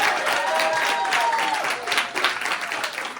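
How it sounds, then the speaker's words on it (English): An audience claps at a close-up and parlor magic show, dense and steady at first, then thinning into looser, uneven claps toward the end, with some faint voices mixed in. "give that a round of applause, everybody!"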